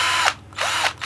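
A cordless battery drill whirs at high speed in two loud bursts, the motor briefly winding down between them before spinning up again, close and without speech.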